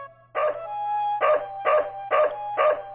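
A dog in the video game Blackwell Legacy barks five times in an even rhythm, each loud, close bark rising into a slight howl over a low steady hum.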